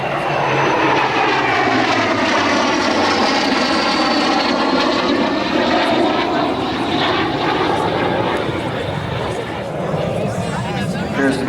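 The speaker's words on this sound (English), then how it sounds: "here he comes now in his first pass, from left to right, in the high-speed pass of the L-39" An Aero L-39 jet roars past in a high-speed pass at an air show, a loud continuous whoosh and engine whine that sweeps across and fades slightly, with an announcer talking over it.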